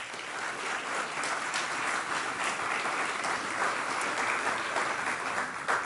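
Steady, dense applause from a graduation audience at an East Hartford Synergy ceremony, filling the hall evenly and continuously with no voices breaking through.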